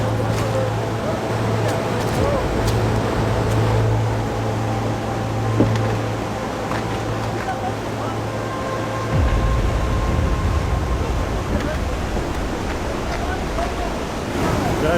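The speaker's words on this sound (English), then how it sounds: "Now it's a raging torrent." A raging torrent of swollen river water in mountain country, a continuous loud rushing roar with wind buffeting the microphone throughout and a low steady hum beneath.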